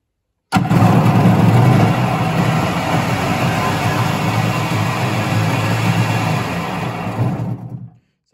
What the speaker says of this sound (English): she might be idling a little high